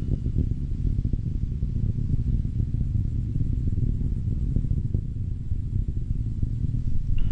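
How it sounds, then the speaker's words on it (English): An Atlas rocket carrying the Juno spacecraft roars as it throttles back up to full thrust after solid booster burn, a dense, steady low rumble heard from a distance with no voices. "Vehicle is starting back up to full thrust."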